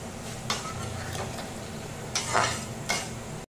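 Onions frying in a pan for haleem, cooked without salt, give a steady moderate sizzle with a few sharp scraping stirs of a spatula against the pan spread through it.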